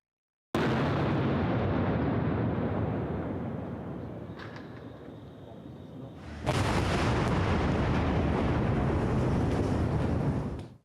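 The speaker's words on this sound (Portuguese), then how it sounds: "Com tudo pronto, a bomba foi detonada." A bomb detonated in a controlled explosion: a loud, continuous roaring blast that slowly fades, then a second sudden, powerful burst of rumbling noise that lasts several seconds before cutting off.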